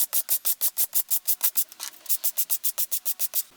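Rhythmic back-and-forth rubbing of a small sponge scourer brushing an aluminium surface by hand, about twenty even strokes in quick succession, close and clear with no talking.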